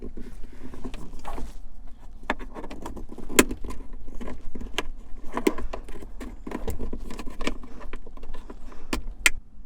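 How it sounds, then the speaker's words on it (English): Plastic panel popper tools pry around the aux jack in a Honda Pilot's dash, giving sharp, irregular clicks and scrapes close up over a low background hum. "I'm going to use the panel poppers and pry around the jack to get it out"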